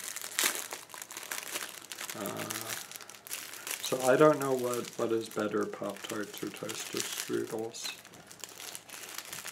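Crinkly plastic Pop-Tarts wrapper rustling and tearing, close and intermittent, with a person talking over the crackling.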